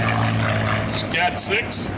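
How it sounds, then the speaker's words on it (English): A P-51D Mustang propeller fighter flies past at an airshow, its steady engine drone under an announcer's voice and crowd noise. "And here comes our P-51,"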